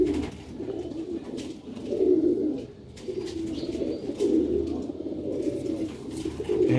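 Rooftop pigeons coo in repeated low, throaty phrases that swell and fade, close by and clear, with no voices.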